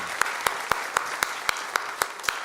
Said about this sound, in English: let's give a hand of applause to our panel, all of our presenters